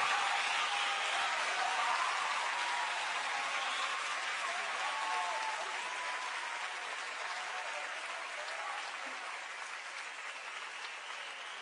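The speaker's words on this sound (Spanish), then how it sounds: "Aplauso para los muchachos." A concert audience applauds a band with a long wash of crowd clapping and scattered voices, fairly distant and soft, slowly tapering off over about twelve seconds.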